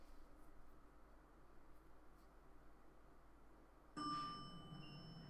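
An elevator chime sound effect from the video game Evil Owl Simulator enters suddenly near the end as a bright sustained ding with ringing overtones. Before it comes a long stretch of faint background hiss.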